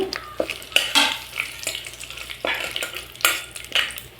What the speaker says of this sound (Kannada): ಇದನ್ನ ಲೋ ಫ್ಲೇಮಲ್ಲಿ ಇಟ್ಕೊಂಡು ಈ ಥರ ಬಾಡಿಸ್ಕೊಳ್ಳಿ